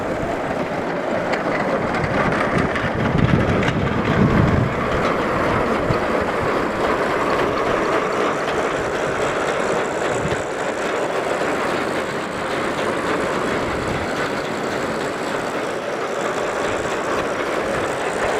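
A Minneapolis Moline model E corn sheller runs with its main drive in gear, giving a steady, loud mechanical roar and rattle of chains and the elevator that continues without a break.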